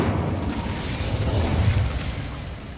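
An Incendio fire spell bursts in the Hogwarts Legacy video game with a sustained, rumbling whoosh of flame that holds steady for a few seconds and then slowly fades, without any speech.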